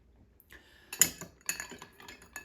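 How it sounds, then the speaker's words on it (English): A couple of ice cubes clink and rattle into a glass of bourbon for an Old Fashioned cocktail, giving sharp close-up chinks in a few separate bursts. "And then add a couple of ice cubes."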